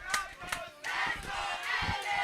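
Fans at a flag football playoff game yelling and chanting, a dense crowd roar swelling after a couple of sharp shouts, with some speech mixed in.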